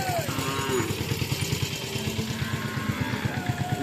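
A cow moos at a cattle market, a drawn-out low bellow that carries over a busy background of crowd noise and a pulsing engine nearby.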